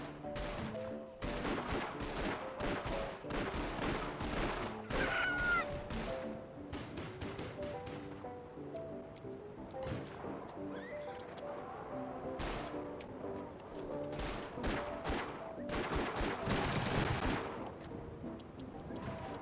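Gunfire in a Roblox Wild West video game crackles in irregular volleys of sharp shots, some rapid and clustered, some spaced, sounding moderately distant and sustained throughout.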